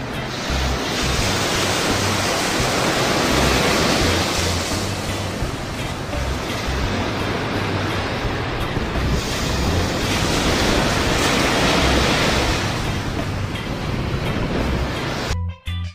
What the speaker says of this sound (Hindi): स से समुद्र